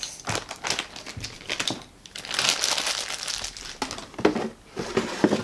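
Paper crinkles and rustles up close as a Crayola Paint Maker toy is unpacked, with bursts of crumpling handling noise that pause briefly and then resume.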